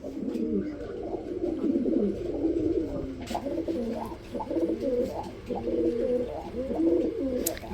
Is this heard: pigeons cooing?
yes